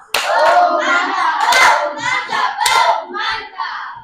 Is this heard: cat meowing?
no